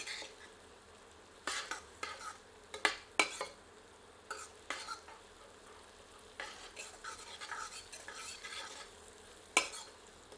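Cut green chillies frying with spices in a pan over medium heat, a soft sizzle under repeated close scrapes and knocks of a ladle stirring against the metal.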